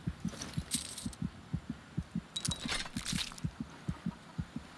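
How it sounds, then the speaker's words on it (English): A steady, rhythmic heartbeat in Skyrim, low double thumps repeating at an even pace, with brief bright jingling and clinking sounds over it now and then. "Do I hear a heart beating?"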